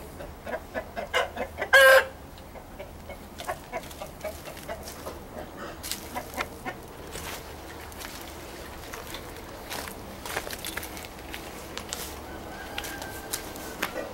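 Roosters fighting, clucking and squawking with scuffling and flapping, one loud sharp cry early on, then continued agitated rustling and calls nearby.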